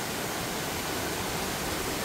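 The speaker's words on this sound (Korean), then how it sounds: "협곡이 형성이 되어 있고 용추폭포가 이렇게 떨어집니다" Yongchu waterfall in the Juwangsan gorge roars as a steady, dense wash of falling water, loud and continuous with no other sounds or voices.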